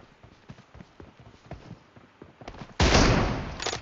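Light rhythmic taps of footsteps give way to a sudden loud burst of rapid automatic gunfire during a team deathmatch in a mobile shooter game, ending in a final sharp shot.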